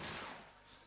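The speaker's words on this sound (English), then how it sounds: "There's gunfire." Gunfire crackles in Call of Duty 4 during a competitive match, a dense burst of rapid shots that is loud at first and trails off within a second.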